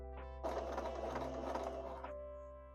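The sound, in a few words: sewing machine sewing a zigzag stitch along the fabric edge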